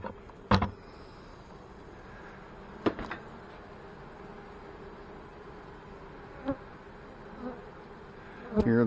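Honey bees fan at the hive entrance in a steady, close, low buzzing drone, with a few sharp knocks and bumps scattered over it and no talk.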